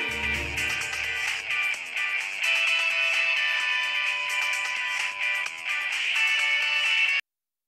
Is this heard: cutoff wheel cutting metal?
no